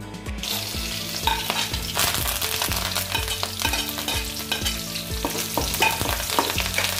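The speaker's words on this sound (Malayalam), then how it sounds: "ആ വെളിച്ചെണ്ണയിലേക്ക് ചെറിയ ഉള്ളിയും വെള്ളുള്ളിയും കറിവേപ്പില ഇട്ട് നന്നായി വാട്ടിയെടുക്കണം" Shallots, garlic and curry leaves sauté in coconut oil for a jackfruit seed chammanthi: a loud, close sizzle with repeated rhythmic scraping strokes of a spoon against the pan, and no speech.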